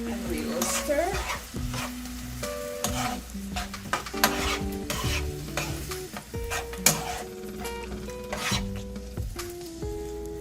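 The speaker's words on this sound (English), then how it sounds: "So I'm just gonna let this saute for about a minute or 2" Vegetables with about two tablespoons of ketchup sauté in a pan, a steady sizzle broken by repeated scraping and clacking stirs, with light music playing underneath and no one talking.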